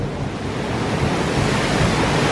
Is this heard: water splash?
yes